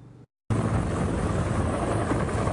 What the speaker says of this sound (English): A helicopter lowers a first responder down into a canyon near Mount Baldy.